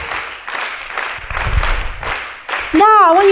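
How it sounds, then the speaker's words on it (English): An audience at a dance conference plenary claps a steady rhythmic pattern together, a repeated pulse of hand claps under a leader's voice, with a loud sung or spoken tone breaking in near the end. "Keep clapping"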